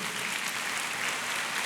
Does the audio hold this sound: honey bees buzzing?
no